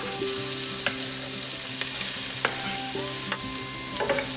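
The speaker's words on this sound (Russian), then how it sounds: "Все это перемешиваем и пару минут жарим на огне" Carrot and onion sizzle and fry steadily in a pan, with occasional stirring scrapes and clinks over the constant crackle.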